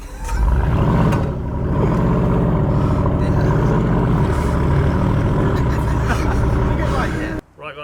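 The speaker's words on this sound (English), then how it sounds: "what can you do with a loud car like this in London?" A loud Mercedes G63 G-Wagon engine roars and revs while driving in London, rising and falling under people talking, then cuts off sharply at the end.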